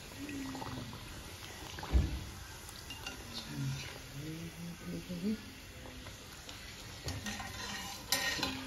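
Red pumpkin puri frying in oil, a soft bubbling sizzle beneath spoken narration, with occasional utensil clinks and a sharp knock near the start.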